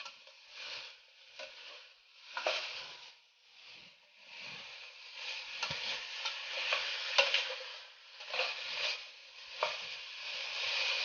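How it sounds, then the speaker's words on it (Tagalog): Pork belly stirred in a pot for nilaga, a continuous hissing sizzle with repeated scraping swells as the pieces are moved around, close and steady with no talking. "Hahalo-haloin lang natin."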